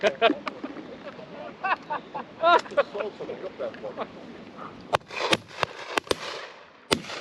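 Shotguns fire at a simulated game day on a sporting club farm, with several sharp reports clustered toward the end while people talk and laugh loosely over the shooting.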